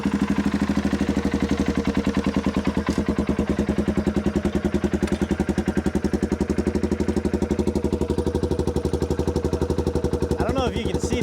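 A Polaris Sportsman 570 ATV engine runs at a steady, rapid, chugging idle close up, its rhythmic pulsing constant throughout and loud. A faint whistle-like sound appears near the end.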